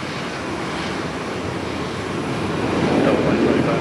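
Steady, broad roar of a jet airliner on its takeoff roll from runway 17 at Minneapolis–St. Paul airport, loud and continuous, swelling slightly toward the end, with no clear speech.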